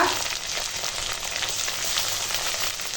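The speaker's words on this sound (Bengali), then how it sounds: "পেঁয়াজ আর কাঁচা লঙ্কা এটা এখন ভালো করে ভেজে নেবো" Onion, green chilli, tomato and spice paste fry in a pan with a steady, dense sizzle that runs unbroken throughout.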